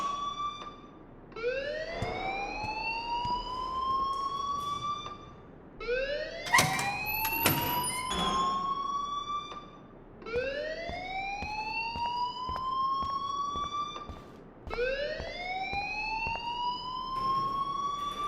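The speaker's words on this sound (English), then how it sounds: "please turn off that alarm since that's your job" A fire alarm in the video game Life Is Strange, set inside a school, wails in rising sweeps that repeat steadily, loud and alone.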